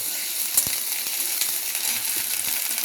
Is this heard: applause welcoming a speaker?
no